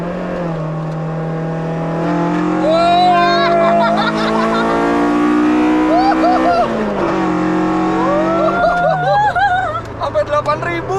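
Toyota AE86 Black Limited, an original rather than converted car, revving its engine up to 8000 rpm, a loud sustained rising and falling wail with people talking excitedly over it.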